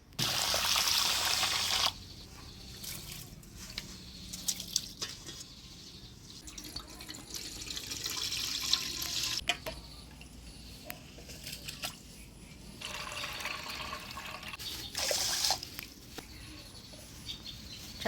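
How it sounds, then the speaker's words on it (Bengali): Rice being rinsed in water by hand, swishing and trickling with splashy pouring bursts at the start, middle and near the end, close and fairly quiet with no talking. "চালটা আমি 2 থেকে 3 বার পরিষ্কার করে ধুয়ে নিলাম"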